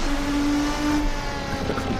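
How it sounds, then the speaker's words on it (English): A 7-liter V12 race car engine in the racing game Assetto Corsa, a steady droning engine tone with a held pitch that drops away toward the end, loud and alone without talk. "What you're listening to is actually a 7-liter V12."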